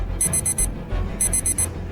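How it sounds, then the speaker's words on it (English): A phone alarm set for 4:30 in a cabin at night sounds in two bursts of four rapid, piercing electronic beeps separated by a short pause, loud and close against a low background hum. "I had set my alarm at 4:30, which must have been the source of all the noise"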